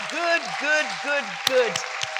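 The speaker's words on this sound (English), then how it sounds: "I'm going to ask you to give our panelists a hand clap as they go off the platform" Audience applause for departing panelists at a leading-voices conference, a steady clapping texture running under a voice with a rising and falling pitch throughout.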